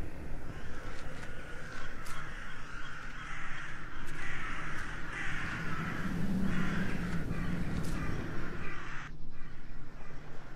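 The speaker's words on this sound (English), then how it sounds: "We need to listen to the sound of the birds." Crows caw repeatedly in the video game The Last Door, harsh calls rising over a steady ambient background that continues throughout.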